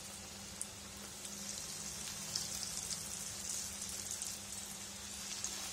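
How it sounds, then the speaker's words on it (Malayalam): Ripe banana slices fry in hot oil in a wide pan over a low flame, giving a steady, close, soft sizzle with scattered tiny pops and crackles throughout. "എണ്ണ ചൂടായതിനു ശേഷം ലോ ഫ്ലെയിമിൽ വെച്ചിട്ടാണ് ഞാനിപ്പോ പഴം എണ്ണയിലേക്ക് ഇട്ട് കൊടുക്കുന്നത്"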